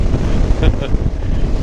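Strong crosswind buffets a motorcycle rider at speed on a highway toward the Atacama, a loud, continuous low roar of wind noise on the microphone with the engine underneath.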